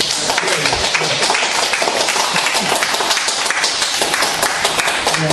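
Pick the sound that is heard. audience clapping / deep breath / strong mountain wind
audience clapping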